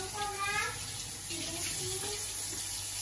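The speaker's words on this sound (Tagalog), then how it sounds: "Kahit na spring onion, hugasan pa rin natin." Spring onions being rinsed under a running kitchen tap, a steady wash of flowing water with faint splashing throughout.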